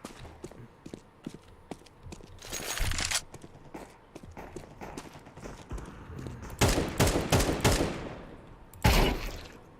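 Counter-Strike 2 gunfire: scattered single shots and a few loud sharp bursts, with faint footsteps and game ambience in between.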